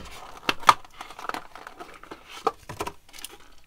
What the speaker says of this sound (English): It is in a plastic clamshell kind of thing here. So we do a little scissor action here.